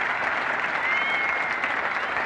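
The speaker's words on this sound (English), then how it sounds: "Applause not only from a very goodly Friday crowd here, but the Indian players too in the middle are applauding this senior English cricketer" Cricket crowd at a Test match in England in 1978, with fielding players joining in, applauding a departing Yorkshire opener after a long innings: sustained, loud, even clapping from a large stadium audience.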